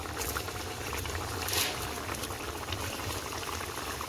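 Fig and prawn mixture bubbling steadily in a covered pan, a continuous close boiling hiss and simmer with no talk.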